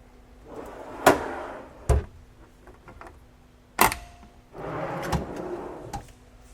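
Several sharp knocks and sliding rumbles of a hanging file drawer being pulled out and pushed back, close and distinct, with quiet pauses between.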